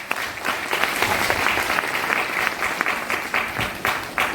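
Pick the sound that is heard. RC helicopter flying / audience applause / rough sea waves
audience applause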